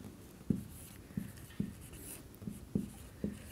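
A pen or chalk taps and scratches in short, separate strokes, about six in a row, while a maths problem about a ship sailing against the current is written out, close and moderately quiet.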